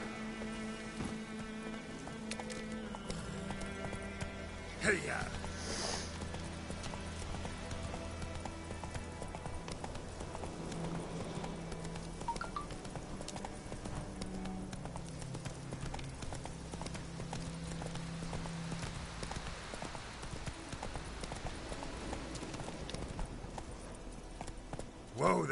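Horse hooves clip-clop steadily on the ground in The Witcher 3, a continuous rhythmic clopping at moderate loudness with faint rain-like patter, alone without talk.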